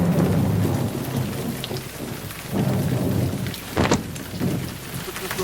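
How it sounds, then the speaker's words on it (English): A rain and thunder sound effect from an old iMovie version: a dense, steady downpour with rolling thunder swelling and fading, plus a sharp crack near the end, loud and alone without speech. "The rain effect like this."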